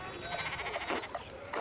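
Sheep bleating in the video game Pentiment, a few quiet, wavering bleats over a low background, with no voices during the calls.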